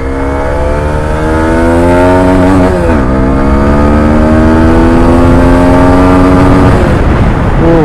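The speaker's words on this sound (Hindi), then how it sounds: "तो अब डालते इसको देख लेते हैं कितनी जाती फर्स्ट गियर में" A TVS Apache 160 4V motorcycle in sports mode accelerates hard through first gear, its engine note climbing steadily in pitch, dipping briefly at a shift-like break, then rising again, loud and close with no talking.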